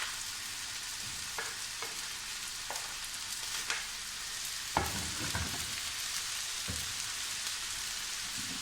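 Grated potato, cauliflower and green coriander cooking in a pan: a soft, continuous hiss like light rain, with a few scattered knocks as the vegetables are moved.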